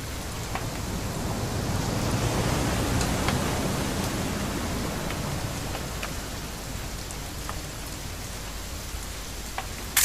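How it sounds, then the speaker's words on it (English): Steady rain pouring down in the video game What Remains of Edith Finch, a dense, even hiss that fills the whole stretch with faint scattered drop ticks and no voices. "It's gonna rain the whole weekend, isn't it?"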